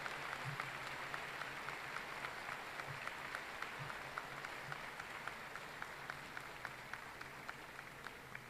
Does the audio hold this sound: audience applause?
yes